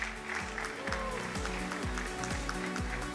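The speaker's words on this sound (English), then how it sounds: "round of applause" Steady applause from a crowd at an esports racing awards ceremony, beneath a loud rhythmic music beat, with a thumping bass pulse repeating about twice a second.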